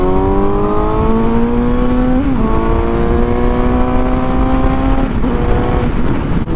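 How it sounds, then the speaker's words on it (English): A Suzuki GSX-S750 motorcycle engine revs nearby with a loud, steady droning tone whose pitch climbs slightly, then drops briefly twice before rising again, with no talking. "I'm addicted to the way this bike sounds."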